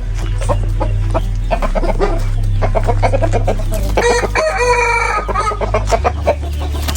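A rooster lets out a loud, close crow among nearby clucking fowl, with a steady low hum running underneath throughout.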